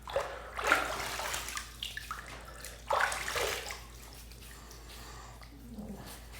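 Bloom water poured into a bowl for shaving lather during a head shave, giving two short splashing dumps of liquid followed by quieter trickling.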